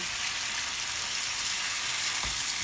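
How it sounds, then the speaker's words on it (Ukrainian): Food crackles and sizzles steadily in a pan, a soft continuous hiss with one brief thump near the end. "І отак воно у нас жариться, шкварчить гарненько"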